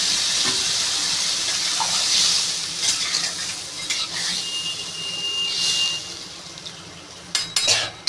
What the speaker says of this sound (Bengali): আমি এবার জল দিয়ে দেবো পরিমাণ মতন ঝোলটা দিয়ে দেবো